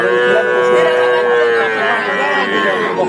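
At a cattle market in Ishwardi, Pabna, where heifers are sold, a long, drawn-out bovine low carries for about three seconds against a background of murmuring voices.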